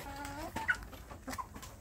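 Young Indonesian village chickens (ayam kampung) in a rearing coop give a few soft, close clucks and peeps over low coop background noise.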